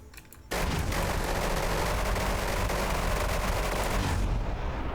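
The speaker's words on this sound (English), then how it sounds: "It sounds like a crazy aircraft cannon that's really angry." An aircraft cannon fires nonstop at an airship in Garry's Mod, a loud, dense roar of rapid-fire shots that starts abruptly after a brief lull and runs continuously before tailing off at the end.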